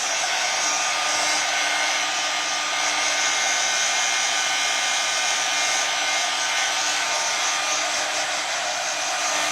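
A hair dryer blows steadily and loudly on waterslide transfers laid on tile coasters. The airflow whooshes with no break from start to finish, and no one speaks over it.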